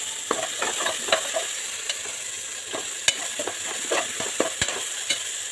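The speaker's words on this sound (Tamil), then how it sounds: "கத்திரிக்காய் லைட்டாக வதங்கிடுச்சு" Brinjal sautéing in a pan for a wedding-style vatha kuzhambu, a steady sizzle with repeated close scrapes and taps of a spoon stirring.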